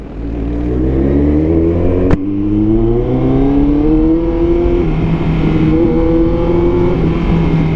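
A Kawasaki ZX14R motorcycle with a new aftermarket exhaust revs up hard and close, its exhaust rising in pitch and roaring continuously with no talk.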